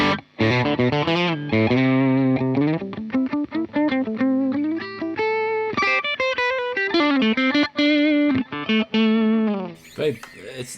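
An electric guitar played through a UAFX Ruby amp pedal rings out in distorted, sustained chords and bent lead notes with a lively rhythm, loud and close, the phrases broken by brief pauses.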